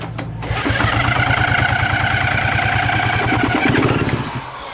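A Kawasaki KX250F dirt bike, a bit flooded, cranks and catches, then settles into a loud, close, steady idle with an even putter throughout.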